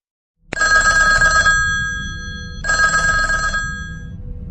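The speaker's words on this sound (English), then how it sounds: "The phone rang again." A telephone bell rings in two loud, close bursts, the second starting about two seconds after the first ends, with a low background rumble continuing between and after the rings.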